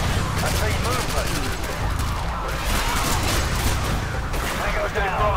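Dense gunfire in Call of Duty Modern Warfare 2, a loud continuous barrage of rapid shots and bursts that holds for the whole stretch, with radio-style voices calling out over it.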